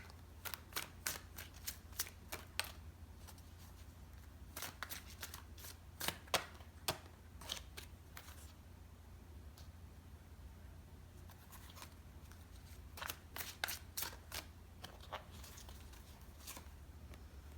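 Tarot cards riffled and handled in quiet bursts of crisp, papery flicks, clustered at the start, middle and end with faint rustling between, over a low steady hum.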